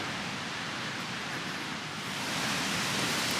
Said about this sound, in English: You can hear the river. It's right over there.